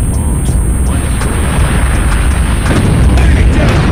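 A tactical nuke detonating in Call of Duty Mobile, a loud sustained booming roar with deep rumble filling the whole stretch, steady and overwhelming with no distinct separate hits.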